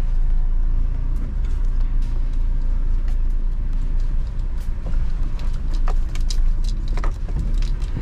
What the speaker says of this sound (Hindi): खाली इंजन ब्रेकिंग से चल रही है